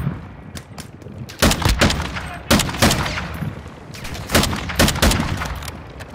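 Gunfire rings out in a staged outdoor action scene: repeated sharp shots, some in quick clusters, loud and close over a constant noisy background, with no talking.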